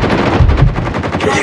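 Rapid automatic gunfire from a Call of Duty match, a loud, dense burst of shots packed close together and running continuously for well over a second.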